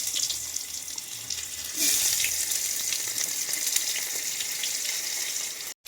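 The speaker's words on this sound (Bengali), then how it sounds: "পেঁয়াজগুলো পুরো লাল লাল করে একটু ভেজে নেই" Onions frying in hot oil with ground cumin and ground bay leaf, a steady close hiss and sizzle that swells louder partway through and continues without voices.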